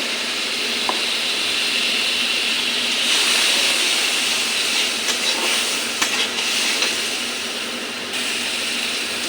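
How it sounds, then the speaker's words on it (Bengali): Onion and garlic paste masala frying for a prawn dish, a loud continuous sizzling hiss that swells and eases with the stirring, with a few small clicks. "ভালো করে কষে নিই পেঁয়াজ রসুন পেস্ট করে রেখেছি"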